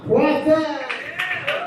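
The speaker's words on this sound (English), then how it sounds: "Let's give a warm round of applause for the Prophet." Applause and cheering break out for a performer called the Prophet at a spoken-word and storytelling evening. A host's voice rings out first, then scattered bursts of claps and cheers rise in the hall.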